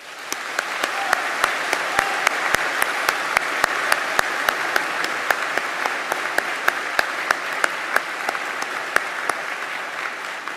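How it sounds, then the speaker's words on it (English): Graduation ceremony crowd applauding steadily for about ten seconds at an art and design school, a dense even wash of clapping with sharp individual claps standing out throughout. "please join me once again for a big collective round of applause"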